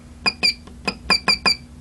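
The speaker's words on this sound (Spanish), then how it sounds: "va a sonar una pequeña alarma acústica" An ECU smart tracer repair tester gives a small acoustic alarm: six short, bright electronic beeps in quick irregular succession, close and clear over a quiet background.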